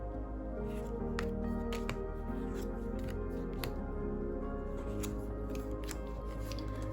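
Tarot cards from a Mythical Creatures deck being riffle shuffled, giving a few quick fluttering bursts of card edges snapping together over a steady low background hum, fairly close.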